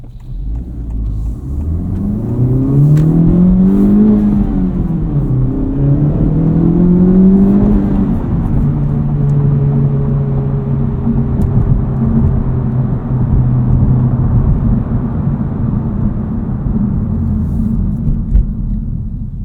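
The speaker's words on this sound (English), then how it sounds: "on throttle, that exhaust valve is opening, off throttle it's closing" A 2023 Honda Civic Type R with front resonator delete revs up and down through gears with a loud, throaty exhaust note, valve opening on throttle, then settles into a steady drone and a softer rumbling cruise.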